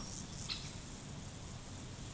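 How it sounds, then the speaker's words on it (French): Short, dry buzzing stridulation of a Chrysocraon dispar grasshopper in a meadow, steady and fairly close, with no voices. "En tendant l'oreille, on pourrait entendre les stridulations des grillons et criquets, comme celui-ci, appelé Chrysocraon disprar."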